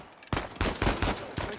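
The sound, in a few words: gunfire in the video game Uncharted 4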